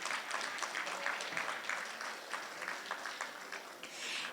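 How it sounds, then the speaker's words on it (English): Audience applause for a guest speaker named Lily at a Catholic parish talk, a steady moderate patter of many hands clapping, slightly distant, continuing evenly without voices. "Let's give her a round of applause again."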